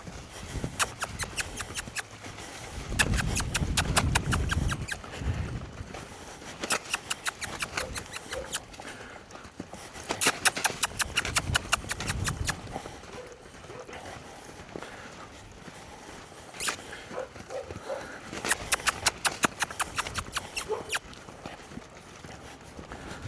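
A horse loping in a training session, its hoofbeats coming as repeated rhythmic clip-clop bursts of footfalls at moderate distance, rising and fading in waves with light background noise and no talk.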